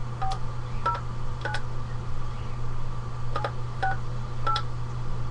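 Touch-tone dialing beeps as a phone call is placed, short dual-tone pulses in uneven bursts over a steady low hum, fairly faint, with no talking.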